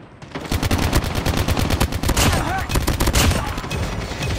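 Rapid, continuous automatic gunfire in a Call of Duty Hardpoint match, loud and dense throughout with closely spaced shots.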